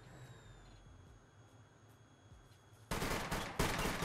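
Gunfire in the online game SCUM during a police station shootout: after a quiet stretch with a faint mechanical whine, a loud rapid burst of shots erupts and keeps cracking to the end.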